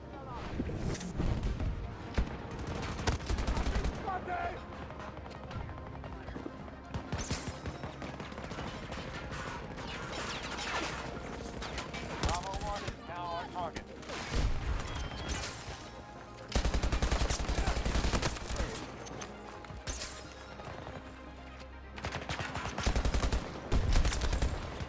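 Gameplay from Battlefield 2042 brings LMG fire in repeated rapid bursts amid ongoing battle noise, loud and close, with a player's voice talking over parts of it.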